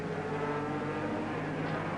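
Jim Clark's Lotus Ford race car lapping Warwick Farm in the 1968 Tasman Cup International 100, its engine a continuous loud drone with a slight swell near the end.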